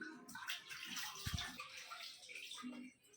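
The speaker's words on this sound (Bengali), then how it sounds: "ভাবলাম আগে মাংসটা ধুয়ে নিয়ে দেখো কত নোংরা বেরিয়েছে" Raw meat rinsed under running water in a sink or basin, a steady splashing and trickling close by with brief thumps as the pieces are handled, lasting throughout.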